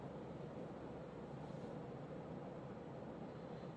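A Commander Catalina ceiling fan spinning at high speed, about 195 to 200 RPM, makes a steady, even whooshing hum with no breaks, low and fairly faint throughout.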